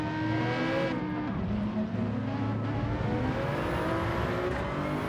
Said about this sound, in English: you can just hear that Aston Martin rev up